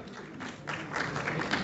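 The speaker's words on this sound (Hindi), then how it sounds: "पहले तो उनके लिए बदले नौखास्ता तालियां ही बजा दें।" An audience at a speech event applauds, a faint, distant patter of many hands that thickens and grows a little louder after a moment.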